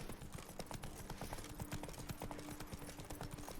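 Horse hooves clip-clop in a steady rapid rhythm as a horse follows along in the video game Witcher 3, faint and continuous, with a low game soundtrack hum beneath.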